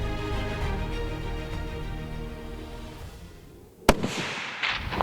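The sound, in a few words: rifle shot at a mule deer during a hunt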